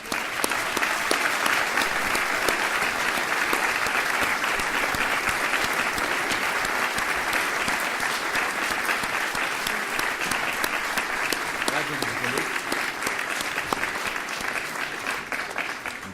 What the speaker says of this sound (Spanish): voy a dar paso antes, sin pausa, al aplauso por la concesión del premio